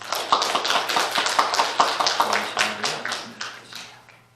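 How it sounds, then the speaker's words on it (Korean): Congregation in a Korean Presbyterian church giving a rhythmic patterned round of clapping after a prayer, with steady sharp claps about three per second, fairly close and loud, fading toward the end. "우리 경례 박수 한번 할까요?"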